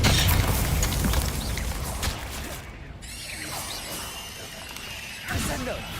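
A Confringo blasting curse goes off in the Hogwarts Legacy wizard game, a crashing burst of explosive noise followed by a sweeping magical whoosh and debris, amid busy combat sounds.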